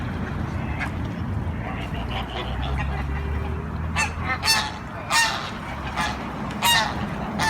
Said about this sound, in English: there's white geese as well as the swans in there.